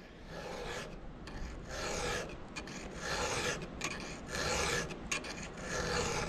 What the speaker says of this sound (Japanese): 丸やすりを当てて、で丸やすりのあのやすりの部分に刃が当たるところまですり込んでやって